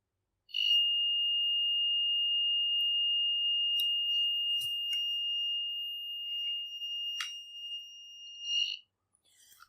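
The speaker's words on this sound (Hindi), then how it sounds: "जैसे ही मैंने लाइटर से इसको हीट अप्लाई की है और एक पर्टिकुलर अमाउंट के बाद जैसे ही इसने बीप करना स्टार्ट किया है" A heat sensor alarm, heated with a lighter, sounds one continuous high-pitched electronic tone. It holds steady for about eight seconds before stopping abruptly, with a few faint clicks around it in an otherwise quiet room.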